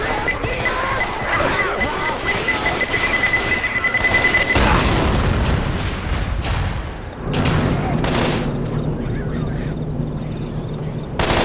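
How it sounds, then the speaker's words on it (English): A pipe bomb thrown and exploding in Left 4 Dead 2, with a sharp blast cutting through heavy ongoing gunfire and a beeping fuse. Zombie-shooting chaos continues around it, and voices call out over the noise. "Throwing a pipe bomb."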